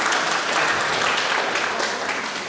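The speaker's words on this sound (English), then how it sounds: "we can clap for that" A church congregation claps together at a Sunday service, a dense, steady wash of applause filling the room for a few seconds without voices.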